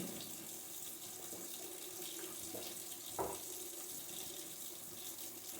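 Hot water runs steadily from a household tap into a sink, a continuous broadband splashing hiss with a brief louder splash near the middle and no talking.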